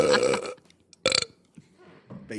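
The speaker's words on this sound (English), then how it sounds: "that was a koala karma burp. It's a quality burp." A person lets out a loud, deep burp lasting about half a second, followed by a second shorter belch after a pause, with faint background noise between them.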